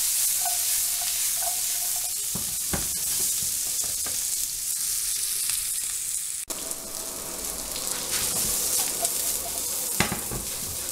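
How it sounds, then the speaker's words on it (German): Carrots and other vegetables searing hard in a pan, an even close sizzle broken by clattering stirs and spatula scrapes, no talking. "wenn das Gemüse scharf angebraten ist"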